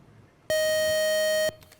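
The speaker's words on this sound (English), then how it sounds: "that buzzer was a quick reminder" A quiz show answer-time buzzer sounds once, a single loud, flat electronic tone lasting about a second that cuts off abruptly.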